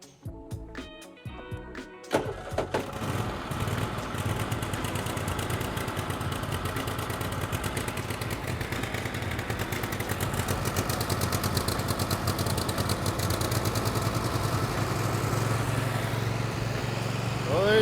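A Husqvarna GT 54CS lawn tractor cranks briefly and then starts, its engine settling into a steady, fairly close running drone that continues to the end.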